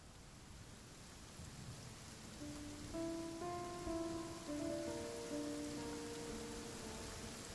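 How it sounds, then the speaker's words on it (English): Heavy rain pours steadily in a video game, a broad, even hiss of falling water that swells slightly partway through, while soft sustained musical tones play faintly underneath. "This heavy rain must be quite an inconvenience for you."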